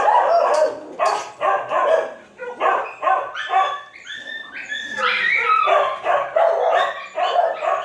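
Several dogs in the stray hold building of the Texarkana animal shelter bark, yip and whimper in close, overlapping bursts, fairly near, with no talk.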